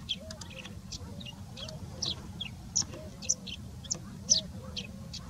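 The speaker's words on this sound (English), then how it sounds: "yellow-throated sparrow or chestnut-shoulder petronia." A male yellow-throated sparrow, or chestnut-shouldered petronia, calls in India with repeated short, sharp high chirps at irregular intervals over a low rumbling background, alongside softer lower calls.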